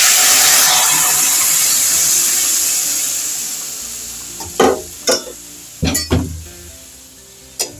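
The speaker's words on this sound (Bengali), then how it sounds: "তো এই যে এরপর এই ছাতুটা দিয়ে দেবো।" Sattu is added to onions fried until reddish in a pan, and a loud sizzle fades out before several sharp metallic clinks and scrapes of stirring.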